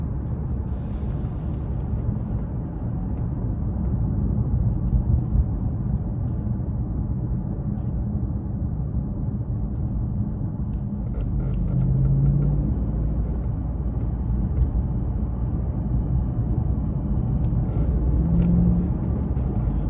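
A 2014 Mercedes-Benz S550 4MATIC with turbocharged engine accelerates from inside the cabin, a low, smooth, muffled rumble that swells slightly midway and keeps droning steadily with no speech.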